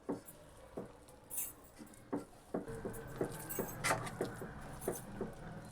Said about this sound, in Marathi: कंटिन्युअसली हे ढवळावं लागतं, नाहीतर खाली चिकटतं.